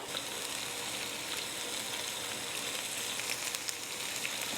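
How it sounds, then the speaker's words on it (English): Bok choy bottoms and onions sizzle steadily in a very hot pan, a dense and constant frying hiss that carries at even loudness from start to finish with no talking. "cook the bottoms of the bok choy first, along with the onions. You wanna have this super hot."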